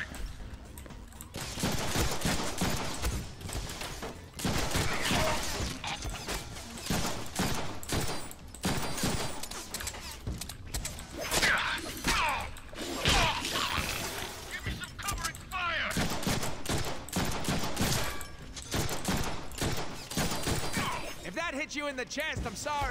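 Deadpool video game gunfire crackles in dense, rapid bursts with shattering impacts and crashes throughout, loud and close, while someone talks over the action.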